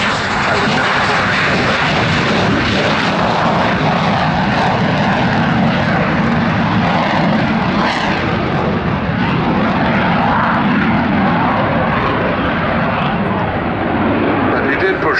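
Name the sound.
Sea Vixen jet aircraft flying display at Yeovilton air show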